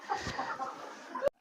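Chickens clucking on an integrated farm where livestock is kept, with several short bright clucks in a steady stream of hen chatter and one sharper call near the end, close and moderately loud.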